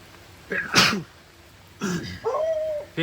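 A sharp sneeze near a camping kitchen trailer, followed by short rough bursts that could be a dog's bark or throat noises, all close and loud against a quiet background.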